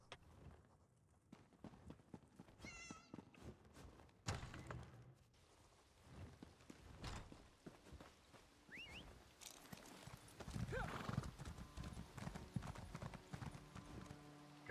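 Horse hooves clip-clop in the game Elder Scrolls Online, a steady quiet rhythm of hoof falls running throughout, growing busier and louder toward the end, with game sounds and occasional speech in the background.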